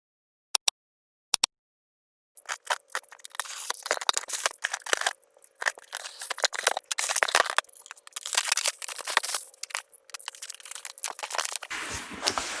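Cardboard shoebox for a snakeskin-pattern Nike Air Force 1 sneaker being opened, with a couple of sharp taps followed by a long run of close crinkling, rustling and tearing of paper and packaging, no voices.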